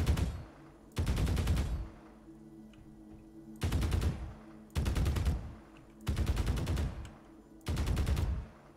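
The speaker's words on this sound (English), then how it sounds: "We'll deal with it with the Gatling, I believe" Gatling gun firing in a video game, sustained rapid bursts of about a second each, six in all, separated by short quiet gaps, loud and close with no talk.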